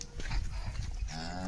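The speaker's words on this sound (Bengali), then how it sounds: "এই গরুগুলা দেখেন" Jersey Friesian cross cows on a farm give a short close moo over low rumbling farmyard noise, with no one speaking.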